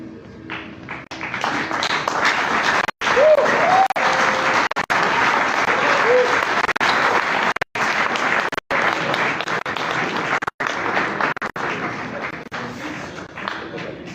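Theatre audience at a festival performance breaks into loud, sustained applause, dense clapping filling the room for several seconds with scattered cheers and a brief voice or two rising over it.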